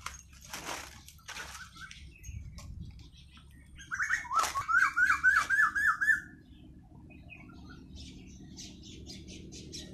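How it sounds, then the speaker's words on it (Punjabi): An Asian koel calls in a village lychee orchard with a quick series of rising, whistled notes over about two seconds. Fainter chirps and a quiet rural background surround the call. "ਕੋਇਲ ਕੋਇਲ"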